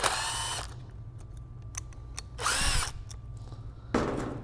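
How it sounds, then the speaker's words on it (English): A power drill whirs in three short bursts, with quiet clicks and handling noise in the pauses between. "grab your drill"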